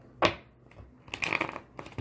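Tarot cards are riffled and shuffled in quick papery bursts, a short flutter followed by a longer crackling run and another brief start, close by.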